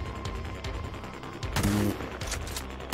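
Rapid bursts of gunfire in the shooting video game Poop Killer 5, dense and repeated across the clip with a louder volley near the middle, no talking.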